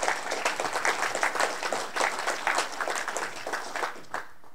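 Audience applause at an evening tech meetup, dense close clapping from a room of people, steady and then tapering off near the end.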